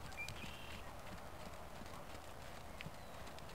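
Horse hooves clip-clop in a riding ring, faint and distant, with a soft irregular rhythm over quiet background noise.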